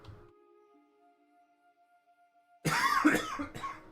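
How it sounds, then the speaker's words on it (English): A brief, harsh cough bursts out close up after a few seconds of near silence with a faint hum, followed by a second shorter cough. "I'm sorry for the coughs, by the way."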